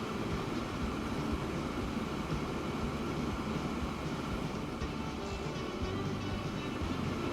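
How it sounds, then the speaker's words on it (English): Train running on rails in the Transport Fever 2 video game, a continuous dense rumble and roar that stays steady and close throughout, no talking. "Get a new train, just ride with it on the first lap."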